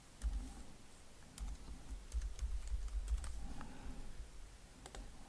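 Rapid bursts of typing on a computer keyboard during CorelDraw text editing, clustered clicks in several short runs with brief pauses, close and fairly quiet with no talking.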